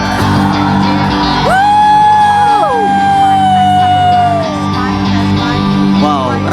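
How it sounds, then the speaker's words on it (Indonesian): A large crowd of choir fans at a packed event yells together, with a loud, drawn-out shout rising over a steady roar of crowd noise. "Kalau aku teriak Common Choir, teman-teman teriak ya."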